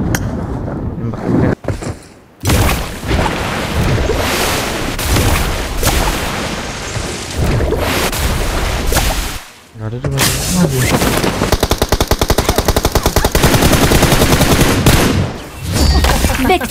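Dense video-game gunfire fills most of the stretch, rapid automatic bursts and booms with loud, near, continuous shooting, briefly dropping out twice, while players talk and shout over it.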